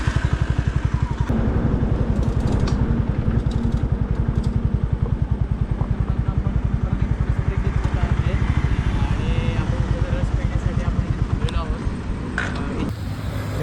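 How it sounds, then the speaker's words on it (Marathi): A Honda Highness CB350 motorcycle idles up close while being parked after a highway ride, its single-cylinder engine thumping in a steady, even rhythm under people talking, easing slightly near the end. "आम्ही आमची बाईक जरा तिथे लावतो बाजूला."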